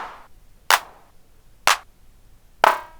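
Hand clap voice on a Roland TR-8S drum machine, struck three times about a second apart: sharp, bright, close-up claps with short tails and nothing else playing.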